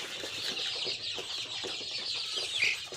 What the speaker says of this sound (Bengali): এই যে আমার হচ্ছে সোনালী মুরগি, এখানে 300 পিস মুরগি আছে